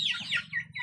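A chicken on a rural farm gives a few quick, close clucks and squawks over a low background hum.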